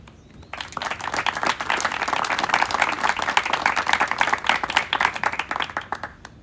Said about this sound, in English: Don't clap because you haven't heard me speak yet